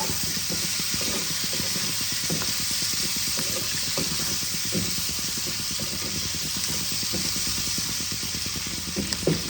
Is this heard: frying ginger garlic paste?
yes